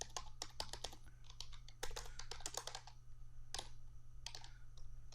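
Irregular clicking of keys on a computer keyboard, close and faint, with short runs of quick taps and brief pauses over a low steady hum, no talk.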